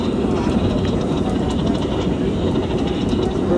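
An R32 subway train rumbles loudly and continuously along the tracks, with a shaky, rattling ride and steady rhythmic clatter heard from inside the car.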